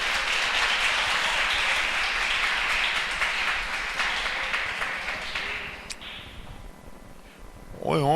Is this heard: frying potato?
no